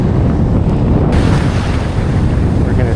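Strong wind buffets the microphone on a surf beach by a rocky jetty, a loud continuous roar blending with the wash of waves throughout.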